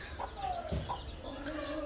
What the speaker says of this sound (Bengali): দেখেন মুরগিগুলো বাচ্চা ফুটিয়েছে